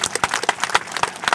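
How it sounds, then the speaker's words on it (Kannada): An audience at a Hindu religious gathering claps together in a short, lively burst of applause. "ಚಪ್ಪಾಳೆ"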